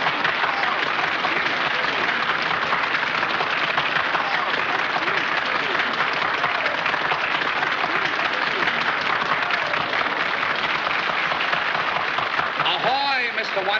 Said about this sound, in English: the audience is now applauding you